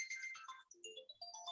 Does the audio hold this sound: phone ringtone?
yes